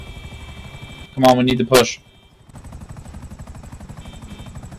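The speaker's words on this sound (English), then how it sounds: "He's trying to steal the helicopter fully." A helicopter in a GTA FiveM King of the Hill match keeps up a low rhythmic rotor chop in the background, while someone speaks loudly over it.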